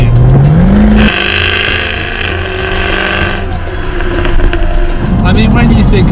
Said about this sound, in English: Such an angry sounding roar! Jaguar, you nailed the V8!